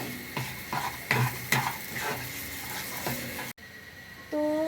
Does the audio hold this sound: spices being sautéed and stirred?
yes